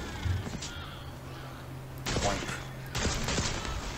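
Gunfire while taking out a sniper in the video game Tiny Tina's Wonderlands: two loud bursts of shots break over a quieter game background with a low steady hum.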